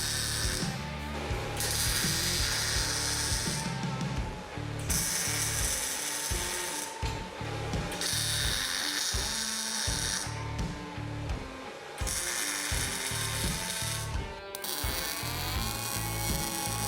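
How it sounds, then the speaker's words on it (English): Short welds laid on steel tabs of a DIY downdraft plasma table frame: repeated loud, close bursts of crackling arc, each lasting about three seconds with brief pauses between, alone without talk. "I'm only putting 2 short welds on each tab to reduce the chances of warping the frame"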